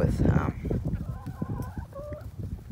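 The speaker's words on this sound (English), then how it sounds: "Got a few chickens out here in another part of the pen now." Chickens cluck in a pen, with a burst of close, busy clucking at first and then a few squawks and soft chatter from several birds. A faint voice is heard under them.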